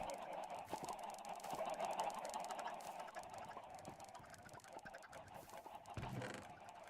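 Minecraft chickens cluck repeatedly in a soft, steady chorus, with a low thump near the end and no talking.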